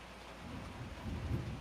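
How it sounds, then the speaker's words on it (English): A thunderstorm with steady rain and low rumbling thunder, a constant wash of rainfall that swells louder partway through as a deeper roll builds, with no voices present. "And I just hope this thunderstorm don't mess up my interview tonight."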